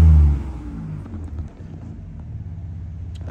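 A 2023 Ford Ranger Raptor with a 3.0 V6 engine rumbles nearby, a deep throaty burst that settles into a steady low drone with some wind noise.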